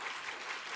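Congregation applauding during a Sunday morning church service after a wedding announcement, a brief even wash of many hands clapping at once, steady and moderately loud.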